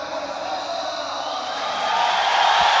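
A large esports arena crowd at a Dota 2 tournament playoff cheers in a steady broadband roar that swells slightly louder toward the end, with no distinct voices standing out.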